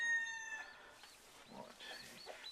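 Matilda, a broody hen, clucks and vocalises in agitation after other hens come in to lay, a few close, wavering calls following a brief high tonal sound at the start, with quiet gaps between.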